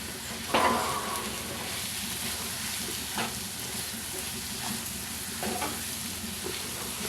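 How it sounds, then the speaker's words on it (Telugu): Sliced onions with chilli powder, turmeric and salt are stirred in a pan, soft sizzling under a few distinct scraping strokes of the spoon, close and fairly quiet. "ఉల్లిపాయలు చెదరకుండా కలుపుకుందాం."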